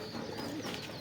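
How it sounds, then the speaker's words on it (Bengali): A khaki pigeon coos softly at close range for about a second, its low murmuring voice sitting over a steady background hiss with no talk. "আমার একটা খাকি কবুতর।"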